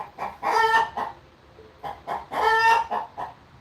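A hen clucks in two loud, drawn-out bursts, each trailed by a few shorter clucks, heard close by with no talking.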